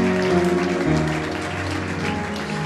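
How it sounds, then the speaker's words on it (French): A church congregation claps and cheers together in a dense, continuous wash of applause that holds steady, loud and close, with a musical tone sustained underneath. "Acclame très très fort pour lui"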